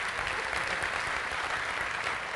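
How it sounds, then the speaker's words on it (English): A conference hall audience at Apple's WWDC 2001 WebObjects session applauds in a dense, even wash of clapping that fills the whole moment without letting up. "I'll have to ask you to hold your applause to the end"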